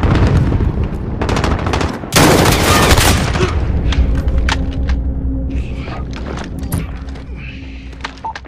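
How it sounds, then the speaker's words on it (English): A precision airstrike gun run in the mobile shooter Call of Duty Mobile: loud, rapid bursts of heavy gunfire, then a sustained roaring volley and a rumbling aftermath with scattered sharp shots and impacts. "Precision airstrike ready for gun run."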